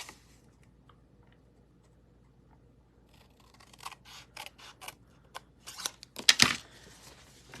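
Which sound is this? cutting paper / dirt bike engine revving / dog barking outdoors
cutting paper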